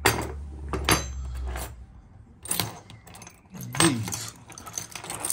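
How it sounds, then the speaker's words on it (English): Metal drop keys from a survey kit jangle and clink in a few separate bursts with quiet gaps between, handled close up. "These are called drop keys."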